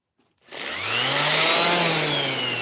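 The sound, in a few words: power sander running on wood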